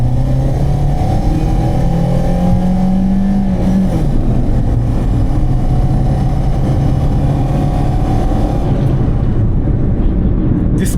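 A car on a road in Bangladesh pulls ahead with a loud, continuous engine drone that rises in pitch as it accelerates, accompanied by steady road noise close up.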